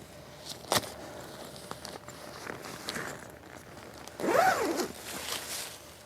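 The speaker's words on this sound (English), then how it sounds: "Undo the zip." A zipper pulled open on a Night Cat flat lay hammock, one clear rasping run near the end, preceded by faint rustles and taps of fabric and Velcro handling.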